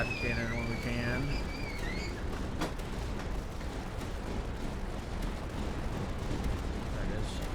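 Cannon fire rumbles and booms steadily through a busy tower-defense battle in Tower Dominion, with dense game effects and rising tones early on, all loud and continuous.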